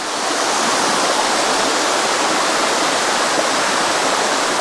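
The Sticky Waterfalls near Chiang Mai, Thailand, rush in a loud, steady roar of water, unbroken and close, with no voices.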